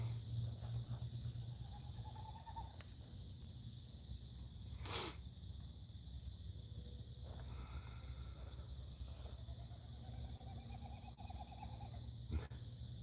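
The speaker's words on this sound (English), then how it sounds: "That bird." An outdoor bird calling, with a few soft, rising whistled notes at a distance over a steady hum and low ambient noise. One sharp click interrupts midway.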